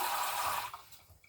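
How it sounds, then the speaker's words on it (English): Tap water running into a sink while hands are washed during home bread making, a soft steady splashing stream that fades out after about half a second. "Give me a second here as I wash my hand off."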